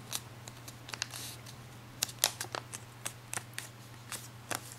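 Origami paper being folded and creased by hand, a series of faint crisp rustles and sharp paper snaps close by in a quiet room.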